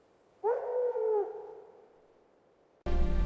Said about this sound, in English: Then distant howls echoed across the mountains.